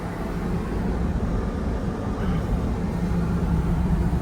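Inside a car with an Armadillo hard top cruising down a highway, a constant dense rumble of road and wind noise runs unbroken and fairly loud, with no speech.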